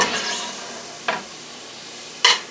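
Ground beef and onions frying in a pan give a steady sizzle, broken by two short scraping stirs, close and fairly loud with no talking.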